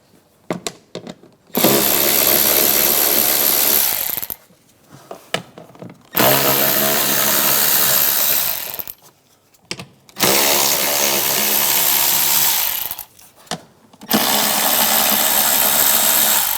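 A power tool whirs in four loud, sustained bursts separated by short pauses while bolts come off the engine cover of a 2008-2013 BMW 328i xDrive with an 8mm socket.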